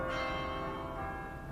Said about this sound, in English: And that bell means it's Christmas.